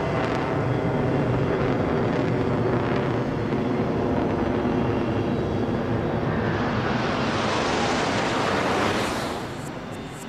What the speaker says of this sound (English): the most recent graduates take control of the next generation of F-18, the Super Hornet